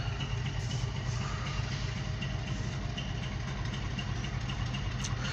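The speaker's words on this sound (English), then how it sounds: "It's a 4-1 engine grain train right here." A four-engine grain hopper freight train sits idling nearby, its diesel locomotives producing a steady, dense low rumble that holds constant throughout with no talk.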